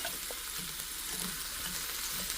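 Bok choy and black mushrooms frying in a stainless steel pan, a steady close hiss of sizzling broken by soft scraping strokes of stirring at a regular pace, with no talk.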